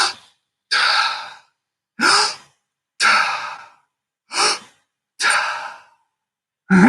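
Heavy recovery breathing after a breath-hold apnea walk, six loud, close, rhythmic gasping inhales and exhales separated by short silent gaps, with no talking.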